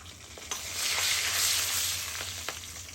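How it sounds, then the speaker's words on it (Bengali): Ghee sizzles in a frying pan while fish and lobster curry is cooked, a bright crackling hiss that swells and fades over a few seconds, with a couple of light utensil taps. "ঘি দিয়ে দিচ্ছি"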